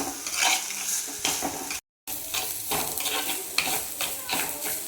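Sliced bitter gourd and green chilies sizzling in sesame oil while being stirred in a pan for an Onam curry, with steady frying hiss and spoon scrapes, broken by a brief silent cut.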